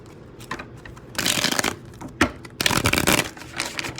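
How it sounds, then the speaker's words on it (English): Tarot cards are shuffled in several bursts of riffling and slapping, close and fairly loud, separated by brief pauses and lighter taps. "I got an alert for one more shuffle"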